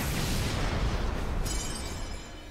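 A shot explodes in the video game Fuga: Melodies of Steel 2 as a dense, loud, roaring blast that dies away in under three seconds.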